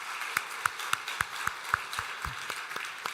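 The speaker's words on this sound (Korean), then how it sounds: "우리 두 분 더 열심히 잘 하시라고 우리 박수로 격려하도록 하겠습니다." Sparse, scattered claps from a small church congregation at a year-end Sunday service, a handful of distinct hand strikes landing irregularly rather than building into full applause.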